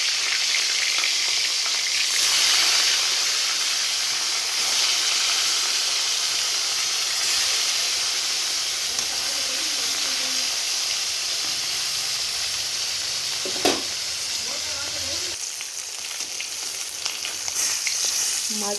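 Fish sizzling and frying in hot oil for a Bengali brinjal-and-fish curry, a steady close crackling hiss that runs throughout with a few brief clatters near the end.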